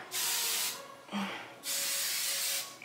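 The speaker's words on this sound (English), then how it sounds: "we're gonna add Tresemme Holding Spray." Two long hissing bursts of Tresemme holding hair spray from an aerosol can, close and fairly loud, separated by a brief pause with a small clicking rustle.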